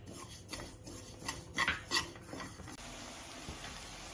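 Half a cup of sesame seeds stirred in a dry pan, with soft scraping and rattling of seeds against metal and a few louder spoon strokes in the middle, fairly quiet and without talk.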